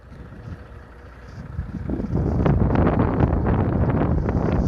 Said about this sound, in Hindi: आपको हवा की भी आवाज़ आ रही होगी। ठंडी हवा चल रही है इस वक्त यहाँ पे